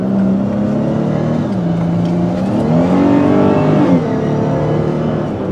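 The engine of an all-wheel-drive Chrysler 300 revs on a road drive, loud and close, its drone dipping, then climbing and swelling before settling again, with no voices.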